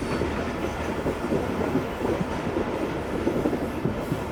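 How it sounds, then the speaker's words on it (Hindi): A Tezgam passenger train slows as it nears a railway station, with steady rumbling wheels and a rhythmic clickety-clack along the rails, loud and close from inside the carriage and continuous throughout. "तो 6:40 पर ट्रेन हमारी पहुंच रही है धाबे जी रेलवे स्टेशन पर"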